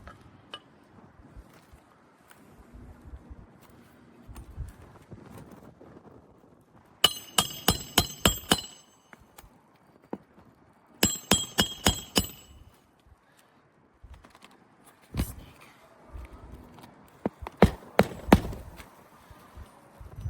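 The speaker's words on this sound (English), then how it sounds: "Works with a hammer." Bursts of sharp metallic hammer strikes on a damaged roof come in quick rapid clusters, separated by quieter pauses with faint background noise.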